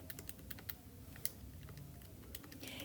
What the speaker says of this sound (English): Type that into your calculator.